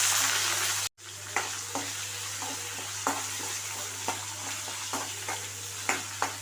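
Onions go into hot oil with cumin, mustard seeds and curry leaves for a white pumpkin sambar, giving a steady close sizzle with a sharp crackling burst, then repeated stirring scrapes and soft clatters against the pan.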